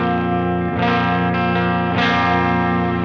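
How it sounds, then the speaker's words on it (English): Sustained electric guitar chords through an HX Stomp pedal board, soaked in repeating multi-head delay echoes and a shimmering, grainy particle reverb tail, changing chords twice, with no talking. "I have a multi-head delay as well as a reverb. It's a particle reverb"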